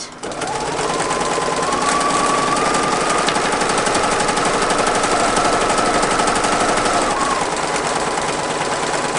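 Non-professional home sewing machine stitching a repair on bag handles: a loud, continuous rapid mechanical chatter with a steady motor hum, close to the microphone and running throughout without speech.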